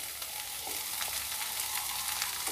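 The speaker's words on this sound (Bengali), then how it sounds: "এবার আমি এক এক করে সব সবজিগুলোই দিয়ে দেবো।" Carrots, cauliflower and beans sizzle and fry in a pan for a vegetable soup, a continuous crackling hiss with faint stirring, close and alone.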